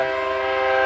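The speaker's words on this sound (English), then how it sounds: "And there's the train." A freight train on a BNSF or Canadian Pacific line in the woods sounds its horn: a loud, sustained, close blast of layered tones, heard alone.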